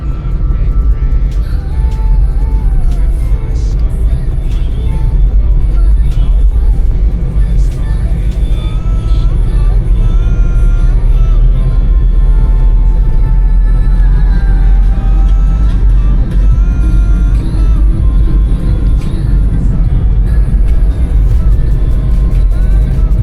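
A car drives along the rain-wet Durgapur Expressway onto a flyover, its steady low road rumble and tyre hiss holding loud and constant throughout.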